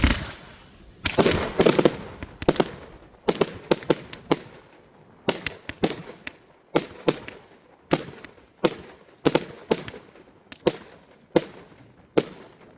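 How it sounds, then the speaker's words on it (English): A 100-shot Thunder King firework cake firing outdoors: a rapid series of loud, sharp bangs and crackling bursts in quick rhythmic succession, each with a short ringing tail, and no one talking. "Make that 30-second 100-shot cake a 15-second cake."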